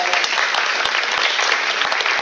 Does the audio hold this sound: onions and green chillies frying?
no